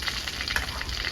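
Katla fish frying in mustard oil, a steady close sizzle with no voices over it.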